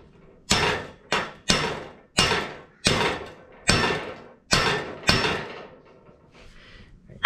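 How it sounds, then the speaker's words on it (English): Pieces are hammered in flush on a homemade overland awning build: eight sharp, ringing metal blows in a steady, slightly uneven rhythm, loud and close, then a quieter tail. "Make sure you have this in there when you're hammering them so they don't go in crooked"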